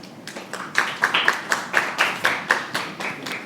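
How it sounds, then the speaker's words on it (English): An audience at a Kenyan press club event applauds, a short run of quick, evenly spaced claps heard fairly close for a few seconds, with no talking. "Another round of applause for Amy."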